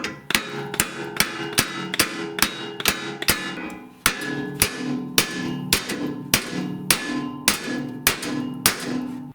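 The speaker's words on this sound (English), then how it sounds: "So what you can do is just hit it with a hammer." Repeated sharp metallic hammer blows on a jammed snowblower shear pin, steady and evenly spaced, about a dozen strikes ringing close up with no talking.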